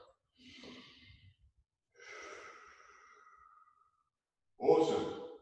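Deep breaths taken during a guided stretching routine, two long slow breaths followed by a louder, sharper exhale, close and clear with no talking.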